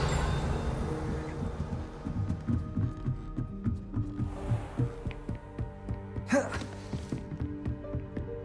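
Repeated Revelio spell pulses in Hogwarts Legacy come through as low, throbbing hum-like bursts over a layered musical backdrop, with one sharper swelling whoosh near the end.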